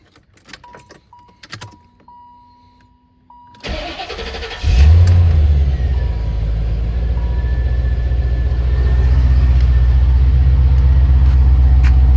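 After some quiet clicks, a Chevrolet C4 Corvette with a modified, opened-up exhaust cranks and catches with a loud burst, then holds a strong, rumbling idle up close.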